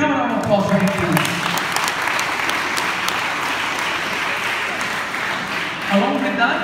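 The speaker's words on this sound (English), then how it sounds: "Can we have a round of applause for him, please?" Audience at a school event at GEM International School applauds for Brigadier Naidu, a dense, steady wash of clapping that fills the whole stretch at close range and carries on without a break.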